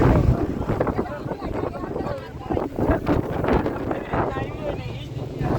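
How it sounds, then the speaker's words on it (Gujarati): Strong storm wind gusting in Mathura at night, a loud, continuous roaring rush with buffeting microphone noise throughout, while voices are faintly present. "ઓય પવન તો જો આવે."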